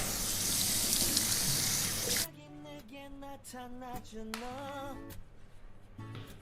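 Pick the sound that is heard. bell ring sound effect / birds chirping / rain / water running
water running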